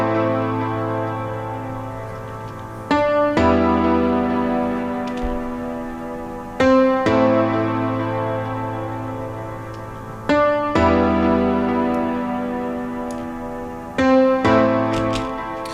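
Layered piano made from three VSTs blended together plays a sustained, rich chord progression with a new struck chord roughly every three and a half seconds, steady and full with no voices.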